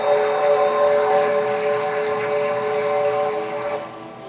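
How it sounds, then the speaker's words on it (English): A Chinese 5-chime steam whistle on a QJ locomotive in the game Trainz 2 sounds continuously, loud and close, a steady multi-tone chord with rich layered pitch that holds evenly before trailing off at the end. "The whistle audio for most of the QJs is a Chinese 5-chime whistle."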